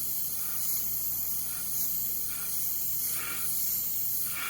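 An opaque paint spray mists a damaged background area of a wolf painting in soft, repeated hissing bursts. The pulses are close and steady over a constant airy background, with no talking.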